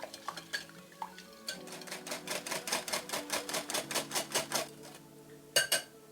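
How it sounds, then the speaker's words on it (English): A whisk beats eggs with milk and sugar in a bowl, a quick regular clatter of metal strokes against the sides, close and clear, pausing briefly between bursts. "all we need to do is just whisk it up"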